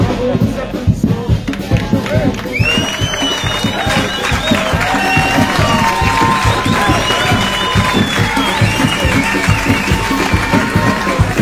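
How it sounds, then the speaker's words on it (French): At the finish of the Transmartinique extreme trail race, a crowd claps and cheers continuously and loudly, with whistles and shouts rising above a steady wash of applause. "Merci, bravo, des applaudissements."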